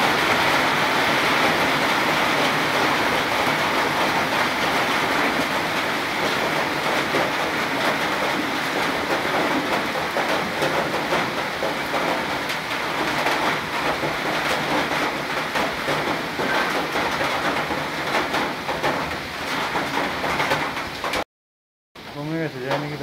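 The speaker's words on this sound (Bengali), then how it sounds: "দেখো কি বৃষ্টি ঝমঝমিয়ে।" Heavy rain pours down in a steady, dense roar that fills the whole stretch, with a passing train's rumble and clatter blended into the wash, then a brief dropout near the end.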